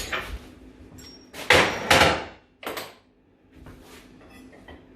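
A large, long, heavy hammer strikes a Bull bench vise in a workshop. A few loud metallic blows ring out and decay between a softer tap and faint clinks.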